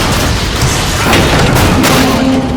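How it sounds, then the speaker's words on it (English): Loud rocket explosions in the video game Transformers: Fall of Cybertron, a dense, roaring boom with crashing debris filling the whole moment, very close and without talk. "They got rockets!"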